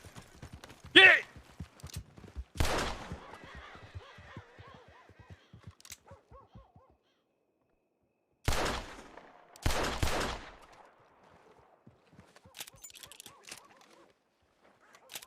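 Gunfire in Red Dead Redemption 2, several sharp loud shots in separate bursts with quiet gaps between them, and someone talking in between.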